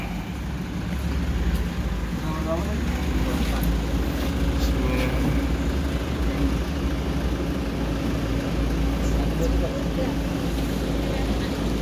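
Low, steady idle of a Toyota Hiace 10-seat passenger van engine running after start-up, a continuous rumble with faint background activity and people talking nearby.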